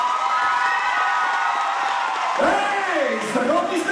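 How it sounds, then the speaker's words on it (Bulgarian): An audience at a children's concert cheers and shouts loudly, with a steady wash of crowd noise and applause that swells with louder whoops near the end. "Ще ми се, лекък си мислище да сте малко още по-много шумни,"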